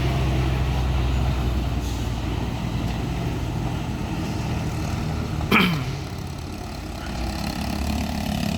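A Fuso intercooler truck straining uphill on a slippery road, its loud, steady engine drone close by, with a sharp hiss like an air brake partway through and no voices.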